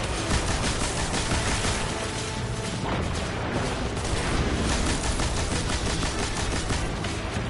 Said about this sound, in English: I'm shooting at everything except Brackus